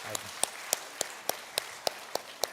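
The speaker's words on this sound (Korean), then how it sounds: "우리 아이들에게 박수 해주겠습니다." A church congregation gives the children a slow, evenly spaced beat of single claps, about one every third of a second, crisp and distinct over a quiet room.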